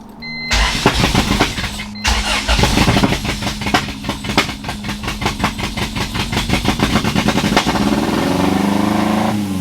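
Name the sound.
car engine starting and revving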